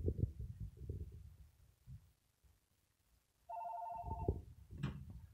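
A telephone rings partway through, a steady electronic ring tone that starts abruptly after low rumbling handling noises and breaks off, followed by a brief higher chirp, all fairly close with no talk.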